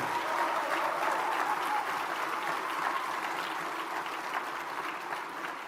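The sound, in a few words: audience applause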